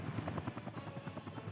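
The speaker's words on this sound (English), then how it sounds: "We've got a single helicopter at the moment, so we're in trouble." A helicopter in the city-building game Workers & Resources: Soviet Republic gives a steady rhythmic rotor chop, evenly pulsing and moderately close, alone without talk.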